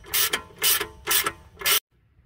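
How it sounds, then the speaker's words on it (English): A hand ratchet clicks in four quick bursts while snugging bolts on a Tesla rear air suspension, then stops abruptly into silence. "Now we'll snug these bolts up."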